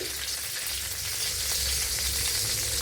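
Garlic cloves and small homegrown ginger sizzle and crackle steadily in hot oil in a pan, a continuous close-up frying hiss with faint stirring.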